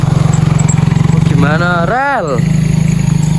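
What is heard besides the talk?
motorcycle passing by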